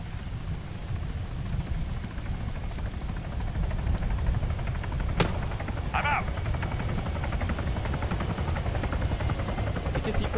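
Helicopter in the Arma 3 video game, a constant low rumbling rotor drone with rain-like hiss over it, steady throughout, with a sharp click and a brief chirpy blip partway.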